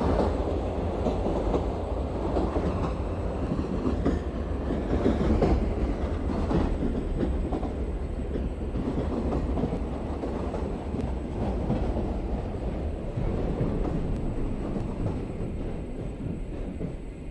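Chennai AC suburban local train running between Chromepet and Tirusulam near Tambaram, a steady rumble of wheels on track with faint rail clatter heard from inside the carriage, continuous and fairly loud throughout.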